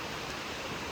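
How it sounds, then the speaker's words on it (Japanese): A waterfall in Tahiti, near a parking area with a river and bamboo, gives a steady broadband roar of falling water that does not change. "滝が見えてきました。"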